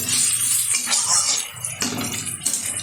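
Raw mango cooked with turmeric in a pan for sour dal, stirred with a metal utensil: steady scraping and clinking against the pan over a soft sizzle.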